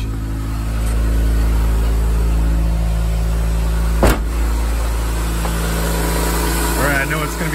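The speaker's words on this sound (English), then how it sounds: "I know it's gonna be hard to hear me" A Honda car engine idling in neutral, a loud, steady low hum close by, with a brief sharp click partway through and a voice talking faintly over it near the end.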